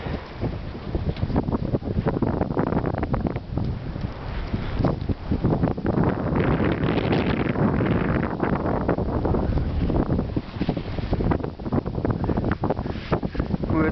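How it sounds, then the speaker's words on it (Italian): Strong bora wind in a light snowstorm at about minus three degrees in Barbiano, roaring and buffeting the microphone continuously with a heavy, gusty rumble throughout. "tira un forte vento di bora ed è in atto una piccola bufera di neve"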